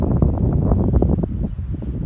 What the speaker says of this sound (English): It is violently windy today.